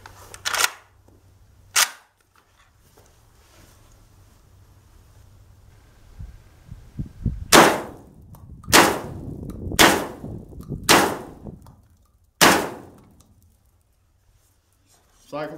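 A JTS AK47 semi-auto shotgun fires Herters 12 gauge shells at a slow pace, roughly eight loud, sharp reports spaced a second or more apart, with quiet handling noise between shots.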